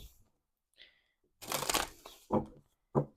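Tarot cards shuffled by hand, a long riffling burst in the middle followed by two short sharp card snaps, close and fairly quiet, with no talking.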